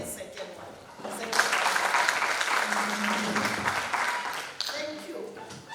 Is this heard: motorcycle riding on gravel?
no